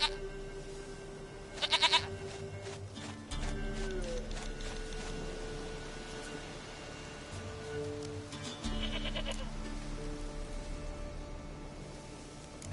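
Video game goat bleating repeatedly in a sustained, wavering series of cries, a brief sharp burst early on, then long steady bleats close and fairly loud over faint background.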